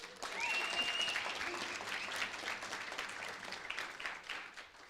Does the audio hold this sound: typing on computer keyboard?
no